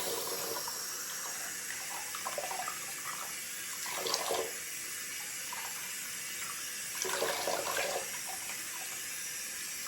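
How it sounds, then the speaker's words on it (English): Tap water runs steadily into a sink while shampoo is rinsed out of a human hair wig, a continuous close splashing hiss that swells briefly twice as the hair is moved under the stream. "I'm going to rinse all of this shampoo out"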